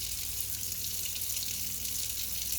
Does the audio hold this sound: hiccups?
no